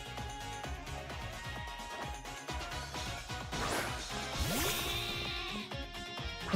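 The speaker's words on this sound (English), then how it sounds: "I see your sheep haven't evolved yet." A Wooloo, a sheep Pokémon in Pokémon Shield, bleats in a trainer battle, its cry sounding amid busy, lively battle music and in-game effects.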